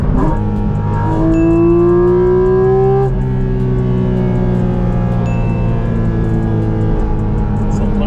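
A Porsche sports car engine revs hard, dropping through gears with rising whines and a deep, loud roar from inside the cabin.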